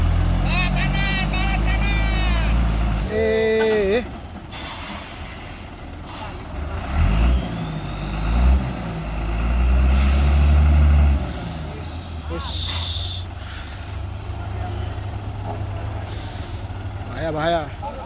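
A container trailer truck labours up the steep Kedabuhan incline with a deep, rumbling engine that surges and strains, cut by sharp hissing bursts of air brakes. Voices shout nearby over the engine noise.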